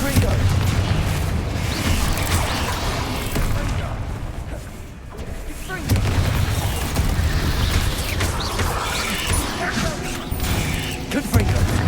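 Repeated Confringo blasting-spell explosions in the Hogwarts Legacy video game, a dense run of loud booms and crackling bursts over a busy rumbling battle mix, with a short lull midway before the blasts resume.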